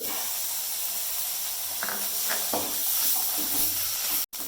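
Ginger garlic paste fries in a pan for a quail egg fry, making a steady hissing sizzle with a few soft stirring scrapes and a brief dropout near the end.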